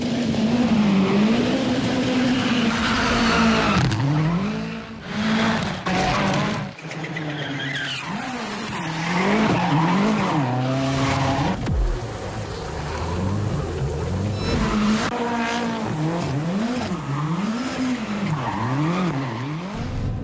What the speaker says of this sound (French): Un système aussi qui comporte un mode de drift pour ceux-là qui aimeraient vraiment oser sur une piste fermée et envoyer les pneus en fumée.